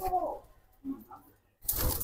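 Pigeons coo softly nearby in low, rounded calls, followed by a burst of rustling or wing flutter at the end.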